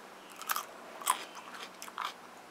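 Three crisp, close bites into a crunchy lacto-fermented cucumber pickle, each a sharp crunch with brief chewing, set against quiet background.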